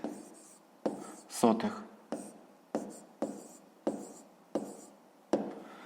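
A fraction is written by hand on paper, heard as about eight short, quiet scratching pen strokes in an uneven rhythm, close to the listener.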